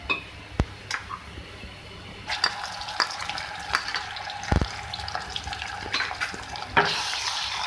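Steady frying sizzle of ginger garlic paste in a pan, with scattered clinks and scrapes of stirring and a brief rush of louder sizzling near the end.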